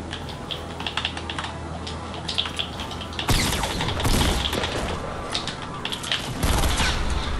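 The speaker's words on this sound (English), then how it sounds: "Oh, I hear gunshots." Rapid bursts of gunfire from a Fortnite match crackle in quick volleys, with a sharp louder cluster of shots partway through over a constant patter of keyboard typing.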